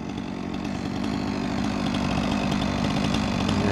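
A chainsaw runs steadily at high revs while cutting a notch into an apple tree being felled for flood control, a loud, close, continuous buzzing snarl that builds slightly, with no voices.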